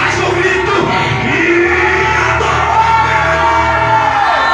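A church congregation at a worship service shouts and cheers together, a loud sustained wall of voices and whoops from a crowd.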